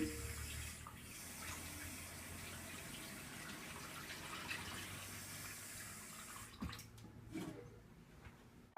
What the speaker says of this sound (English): add some water to the cooking pan so that way we can moist cook the beef